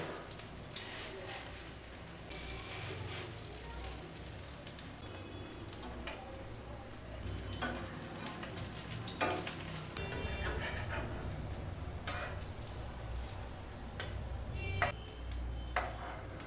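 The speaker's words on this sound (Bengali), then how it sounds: "এটা আমি সাদা তেলেই ভাজবো। এবারে একে একে এগুলো আস্তে আস্তে ছেড়ে দেব।" Bread slices with potato frying in hot white cooking oil, a steady crackling sizzle with scattered sharp pops and light utensil clinks, heard up close for the whole stretch.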